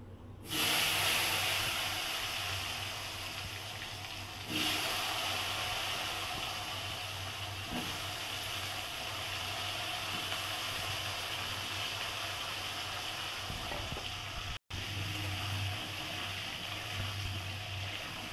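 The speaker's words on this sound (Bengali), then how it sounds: "এবার ওই তেলেতে আলুটা ভেজে নেবো" Potatoes frying in hot oil, used after frying fish with ginger and garlic for a rohu fish head muri ghonto: a loud, steady sizzling hiss that runs continuously with a few brief shifts.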